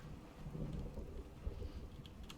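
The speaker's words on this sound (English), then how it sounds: "And of course it starts raining." Rain beginning to fall in the video game Fallout 4, a steady low rumbling wash of rainfall with soft patter, moderately quiet and continuous with no talk.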